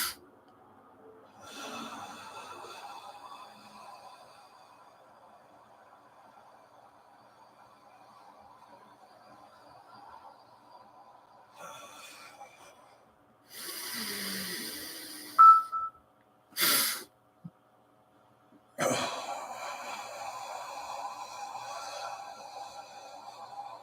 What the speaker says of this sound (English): Double inhale.